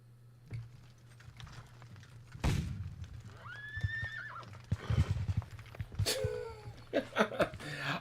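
A horse whinnies in the background during a tabletop game of the Battle of Quatre Bras, with several rising neighs amid hoof clops, mechanical clicks and a constant low hum.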